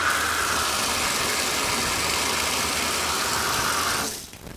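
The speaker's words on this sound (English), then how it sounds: "And then we'll just pull on this and turn the water on." Water runs steadily from a Moen shower tub faucet with a replaced 1200/1225 cartridge, a loud continuous broadband rush that fills the clip alone, then drops sharply near the end as the flow is shut off.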